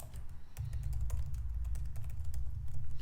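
Close, steady typing on a computer keyboard, a rapid run of light key clicks over a low background hum, with no talking.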